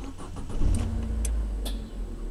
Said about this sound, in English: So I'll start the van now because the ignition's on.